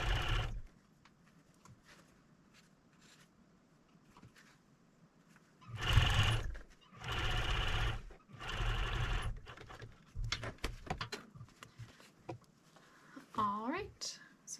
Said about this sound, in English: Now I'm going to sew along the bottom.